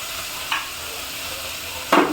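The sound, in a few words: ginger, onion and tomato frying in a pan for vegetable biryani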